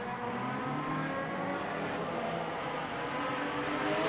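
Race cars roar up the main straightaway at Gympie Speedway, a continuous revving engine note that rises and holds loudly from a mid distance, with no talking over it.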